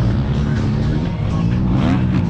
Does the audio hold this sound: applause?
no